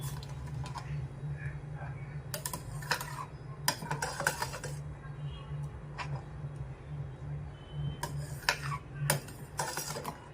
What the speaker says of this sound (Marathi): दूध टाकून घेतल्यानंतर ते सर्व आपण चांगल्या प्रकारे मिक्स करून घेऊया।